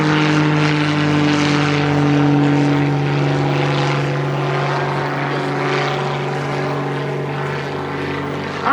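Propeller airplane flying steadily with a loud, constant droning engine and prop buzz, strong even hum holding throughout without talk.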